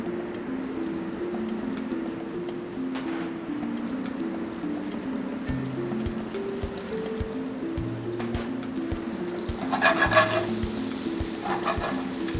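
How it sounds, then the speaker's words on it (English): Peppers and onions sizzling steadily in a hot pan with olive oil, a continuous hissing fry with occasional stirring scrapes, under a soft background music bed. "So now we're going to get our vegetables into the pan."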